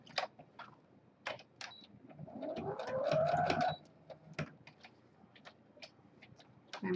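A sewing machine briefly whirs as it stitches around the edge of a fabric baby bib, a short rising motor hum of about two seconds. Scattered close ticks and handling clicks come before and after.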